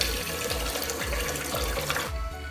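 Tap water runs steadily into a pot of washed rice, giving a close, continuous splashing stream that stops abruptly near the end.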